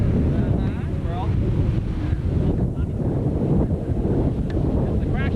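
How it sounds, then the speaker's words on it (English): Surf crashes at Nag's Head Beach in the Outer Banks, a constant roaring wash of waves blended with heavy wind buffeting the microphone, while people talk over it. "There's the crashing surf behind us right back there."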